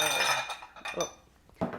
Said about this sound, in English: just coming over here to get another bowl